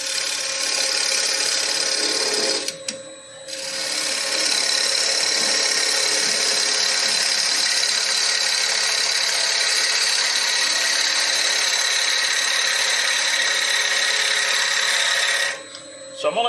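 A wood lathe turns a green wood bowl during an inside cut, giving a loud, continuous whirring, scraping hum that drops out briefly near three seconds and again near the end.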